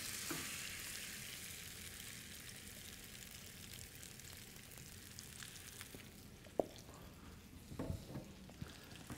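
A potato frittata mixture sizzles steadily in hot oil in a pan, a faint, continuous frying hiss with a few small clicks and no talking.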